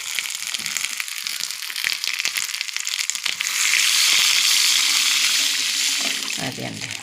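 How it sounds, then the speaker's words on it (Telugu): Water poured into a hot pan of roasted semolina, giving a loud burst of hissing sizzle that swells midway and then settles, with some clattering at the start. "ఇప్పుడు దీంట్లోనూ వాటర్ పోసేద్దామండి."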